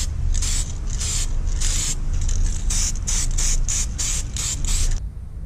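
Spray paint is hissed outdoors through a stencil onto an old board. About nine short bursts of aerosol spray of varying length come up close, with brief pauses and faint rattling between them.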